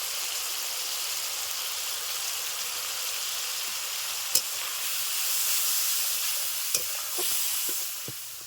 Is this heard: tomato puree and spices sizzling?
yes